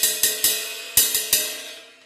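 A muted Meinl 21-inch Polyphonic ride cymbal struck six times in two quick groups of three, each hit a short bright wash that fades fast, close and alone.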